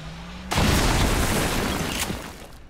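A single heavy gunfire blast in the tactical video game XCOM: Chimera Squad, an abrupt loud boom that decays over about two seconds, with a sharp secondary crack near its tail.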